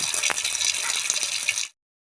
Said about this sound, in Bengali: এবার আমি ভালো করে পরিষ্কার করে ধুয়ে নেব।